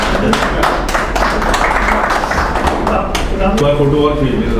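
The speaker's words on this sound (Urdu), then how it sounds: "تالیاں بجاتے ہیں زوردار۔" An audience claps at a book release and discussion event, with scattered sharp claps mixed in under someone speaking.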